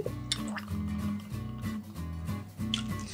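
Silver tequila pours into a cocktail shaker as a run of gurgling, glugging pulses, close and moderately loud, with no voices.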